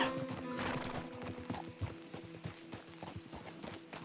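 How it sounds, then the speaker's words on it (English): Horse hooves clip-clop in a steady rhythm through Red Dead Redemption 2, with a nearby whinny early on, over a low in-game ambient hum. "Oh, look at that horsey over there."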